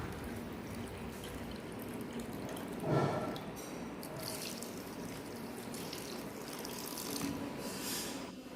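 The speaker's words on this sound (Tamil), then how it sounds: "சக்கரை முழுகிற அளவுக்கு 1 டம்ளர் மட்டும் தண்ணி ஊற்றிக்கலாம்." Water trickles and splashes softly in a steady, quiet stream onto country sugar, with a brief louder pour partway through.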